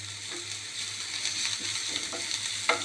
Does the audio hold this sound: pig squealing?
no